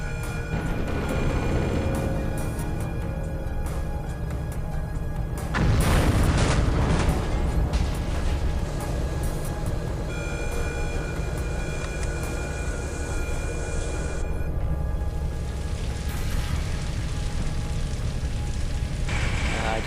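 Rumbling explosions and falling debris in the Chaser video game, a continuous heavy roar with a louder burst of crashing midway and scattered clattering impacts, no voices.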